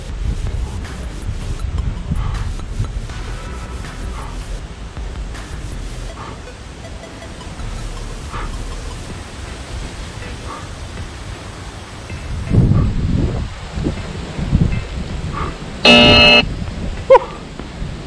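Wind blows across an outdoor spot, a steady low rumble buffeting the microphone with gusts that surge louder toward the end.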